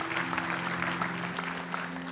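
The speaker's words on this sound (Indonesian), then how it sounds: "Yang mau berikan tepuk tangan" A church congregation at a Sunday service in Tunjungan Plaza applauds steadily, a dense patter of many hands clapping under a low steady hum, holding at an even level throughout.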